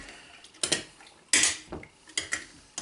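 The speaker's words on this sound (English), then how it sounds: "Mix it up, looks like it's mixing up pretty good." Seasoned venison jerky meat being mixed in a bowl, heard as a series of sharp, close clinks and scrapes of utensils against the bowl in irregular bursts, with no voices.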